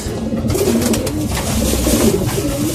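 Pigeons, racing flyers in a Bulacan loft, coo softly in a steady low burbling murmur that runs through the whole stretch, close by and continuous with no talk over it.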